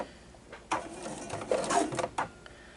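A sewing machine slowly stitching a glasses case with an uneven, faltering mechanical whir in short bursts, close and moderate in volume. It sounds like a machine that is giving trouble.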